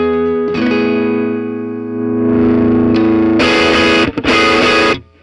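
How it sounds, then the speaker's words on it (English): Overdriven electric guitar through a Tube Screamer overdrive pedal, loud and up close: a sustained distorted chord rings and swells, then two hard, bright strummed bursts follow before the sound cuts off. "Not a bad sound in that pedal. It's the best Tube Screamer."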